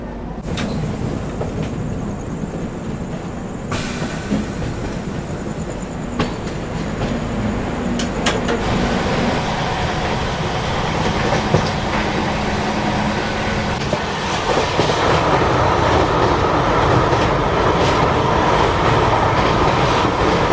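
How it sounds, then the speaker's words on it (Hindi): The Rajdhani Express pulls out of Guwahati railway station, with loud rolling rail noise, a rhythmic clickety-clack of wheels over joints and occasional clanks and brake hiss building as the train gathers pace. "तो लगभग 22 मिनट की देरी से अभी अपनी राजधानी एक्सप्रेस निकल रही है गुवाहाटी रेलवे स्टेशन से"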